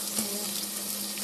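Ground tomato goes into a hot pan of Tamil kuzhambu, making a brief, faint, steady sizzle and frying hiss.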